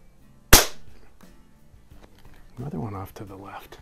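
A single sharp crack from a Gamo 126 Super Match or Beeman AR2078 air rifle firing at a target, close and loud with a quick decay, followed by someone talking.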